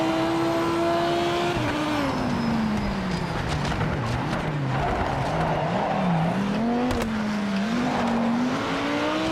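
Race car engine in the Project Motor Racing video game, loud and continuous as it revs, drops and climbs again through shifts, with tyre squeal and scrubbing under it and no talking.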